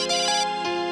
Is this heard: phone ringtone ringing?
yes